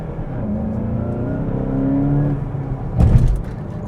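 A 2021 Volkswagen GTI engine revs in sport mode, its deep drone climbing in pitch as the revs build, then dropping off with a short rough burst near the end.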